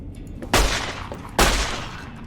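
Two heavy gunshots from the video game Fallout New Vegas, modded, spaced under a second apart, each a loud boom with a decaying tail.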